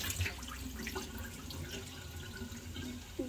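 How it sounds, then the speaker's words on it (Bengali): Water drains from washed, soaked rice, giving a faint, steady trickle and splash with a few small knocks, quiet and close, with no talking. "পানি ঝরিয়ে নিব।"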